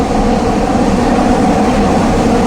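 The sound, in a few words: metro train running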